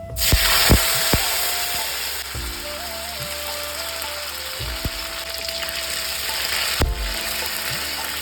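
Cinnamon and whole cumin tempering fry in hot oil for a Bengali kofta curry, a steady close sizzle with sharp clinks of a utensil against the pan, no talking.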